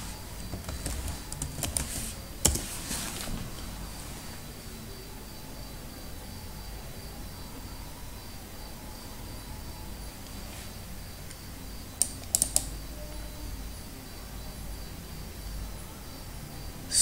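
Computer keys pressed in a short cluster for an Ubuntu keyboard shortcut: a brief burst of close, crisp clicks near the start, then quiet room tone, then a second quick group of taps later on, with no talking.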